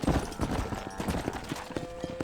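Hoofbeats of a horse galloping in the Red Dead Redemption video game, a rapid steady clip-clop running throughout, close and fairly loud, with faint spoken calls to the horse over the top.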